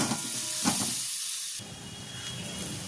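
Lote fish jhuri is stirred and fried in a pan, a close, continuous hiss and sizzle with a brief dip in the middle, heard alone without voices.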